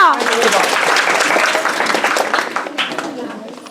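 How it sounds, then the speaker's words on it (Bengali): Schoolgirls at a Girl Child Day celebration in a village school applaud with steady, dense clapping, while a voice speaks over it. "কি কন্যারা হাততালি কম হচ্ছে কেন"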